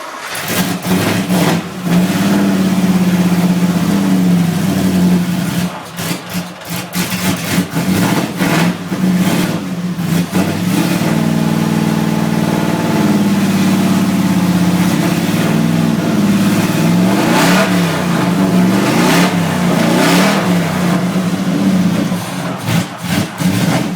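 A car engine cranks and catches, then revs repeatedly under throttle, rising and falling for about twenty-four seconds at close range with a steady rumbling idle between bursts.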